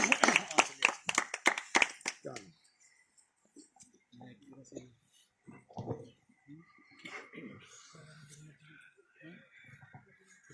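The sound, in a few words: congregation clapping loudly at a church meeting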